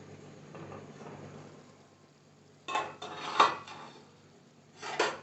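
A lid goes onto a pot of cooking tomato and onion for sambar, a few close metallic clanks and rattles after a soft sizzling background, with a final clatter near the end.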